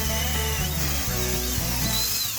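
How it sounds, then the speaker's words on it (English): A power drill whines at high speed, its pitch shifting as it bites into a wooden kitchen cabinet door, loud and close for a couple of seconds. "So now I can drill it out."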